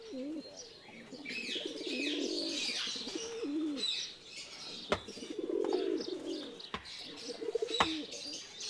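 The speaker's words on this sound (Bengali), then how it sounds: "দেখেন ফ্যান্টেলগুলো কত চমৎকার ভাবে ডাকাডাকি করতেছে" Fantail pigeons coo in repeated soft, throaty phrases close by, joined by higher bird chirps and a couple of sharp clicks or wing flaps, fairly quiet overall.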